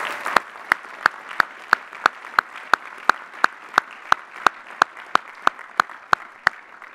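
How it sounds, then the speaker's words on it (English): Broad applause from a large commencement crowd honoring family and friends, a steady wash of many hands with a sharp, rhythmic clap punching through at regular beats, roughly three per second, sustained and loud. "let's give all the family members and friends here a big round of applause"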